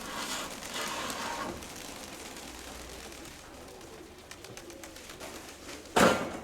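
Pigeons coo softly in a loft, low repeated calls under a steady background hiss, with a brief sharp flutter or knock near the end.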